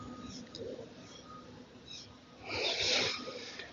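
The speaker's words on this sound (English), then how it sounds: "This Ujjayi breath is known to help you bring more focus and deep breathing to your practice." Deep Ujjayi breathing during a yoga practice, with soft ocean-like breaths through the throat; a louder, rushing exhale swells near the end over a quiet background.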